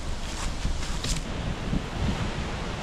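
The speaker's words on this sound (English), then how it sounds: "the wind sure is picking up quite a bit" Steady wind gusting along an open hiking trail at Kaercher Creek Park in Hamburg, Pennsylvania, a continuous rushing roar buffeting the microphone with a few louder swells.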